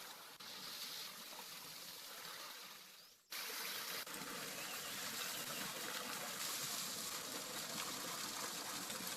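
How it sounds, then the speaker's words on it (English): Clear mountain water from a tropical forest in Kalimantan pours through a natural shower, a steady close rushing splash that briefly drops away before resuming strong and continuous. "The water flowing from the tropical mountain forest through the natural shower is very clear, cool, and healthy."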